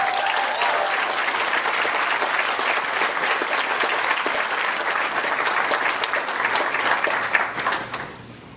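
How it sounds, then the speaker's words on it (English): Graduation audience gives a long, steady round of applause for student speakers at a spring commencement, a dense wash of clapping that holds evenly and then tapers off at the end. "Let's give our student speakers one more round of applause."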